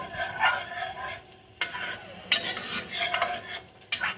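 Chopped vegetables cooking in a pan for a fish stew, soft sizzling under repeated stirring and scraping with a few sharp utensil knocks against the pan, close and moderately quiet.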